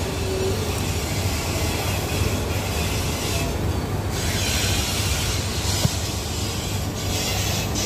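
A train pulls into Howrah station, with a continuous rumble of rolling wagons, wheel squeal and clattering rail noise heard from on board, loud and steady, no talking.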